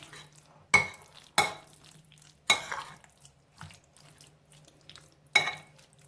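Eggplant tahini salad with dill and olive oil is stirred in a bowl, giving several distinct scraping clinks of a spoon spaced apart, with quiet pauses between them.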